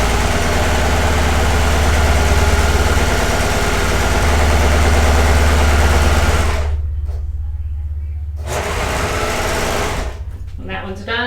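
A sewing machine runs a steady, close whirring stitch along a folded fabric strip for facemask ties, breaking off briefly before resuming with a faint voice in the background.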